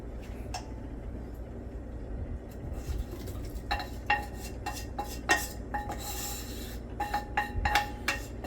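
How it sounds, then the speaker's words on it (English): Onions and a rump roast going into an Instant Pot, metallic clinks and scrapes of utensils against the pot over a steady low hum, growing busier toward the end. "we're going to go ahead now and add the onions and our rump roast to the Instant Pot"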